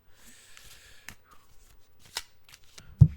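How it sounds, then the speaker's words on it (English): Tarot cards being shuffled by hand, a soft papery riffle and slide with a few sharper flicks and a light thump at the end, close and quiet with no talk. "let's go ahead and get shuffling and see what the cards say"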